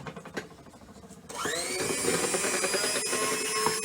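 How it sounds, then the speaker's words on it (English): Carp bait ingredients, including amino liquid, whisked together in a bowl, starting after a quiet moment and running as a steady, loud, close-up whirring churn for the rest of the clip, with no voices. "So I'm just going to whisk them up."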